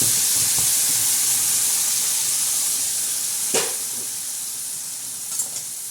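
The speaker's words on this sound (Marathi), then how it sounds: "मस्त असा हलवून घेणार आहोत फ्राय त्या मसाल्याला पूर्ण अशी चांगली अशी फ्राय करणार आहोत" Masala with chili, turmeric and salt fries in hot oil for an egg curry, giving a loud, continuous sizzling hiss close by, broken by an occasional scrape of the stirring spoon, with no voices.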